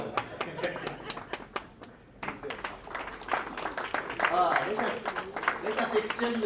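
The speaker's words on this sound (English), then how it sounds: "Can we clap for the members?" An audience claps for members at a railway deal signing ceremony, with scattered, uneven claps over several seconds mixed with voices in the room.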